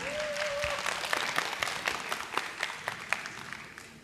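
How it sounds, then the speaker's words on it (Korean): An audience at a Buddhist monk's meditation talk concert at a Buddhist expo open studio applauds, with quiet, moderately paced clapping under a brief tone at the start, fading gradually. "큰 박수 부탁드립니다"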